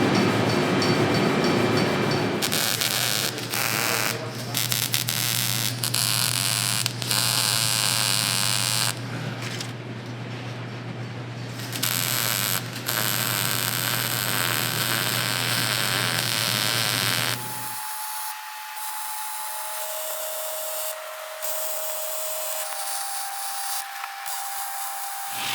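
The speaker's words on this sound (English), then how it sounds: "I'm gonna start welding them together." Steel seat bracket frame pieces being welded together on a bench, a steady loud buzzing hum with crackle for most of the stretch, then cutting off to a quieter high tone near the end.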